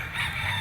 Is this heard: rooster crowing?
yes